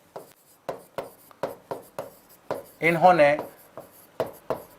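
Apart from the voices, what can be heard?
writing on a board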